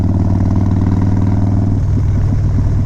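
Harley Dyna motorcycle with a stage 5 Screaming Eagle 110ci kit, a loud close-up engine rumble that holds steady, then shifts into a lumpy, pulsing lope.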